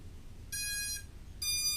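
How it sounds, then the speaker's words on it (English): Two short electronic beeps from a Hornet 2B drone as it is plugged in, each a bright tonal burst about half a second long, close and clear over faint background hum. "when you plug the aircraft in, it'll make a couple beeps"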